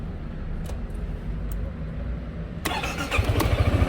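A Yamaha XMAX 300 scooter engine starts up after a low steady background, cranking in with a sudden broadband burst and settling into a close, pulsing idle.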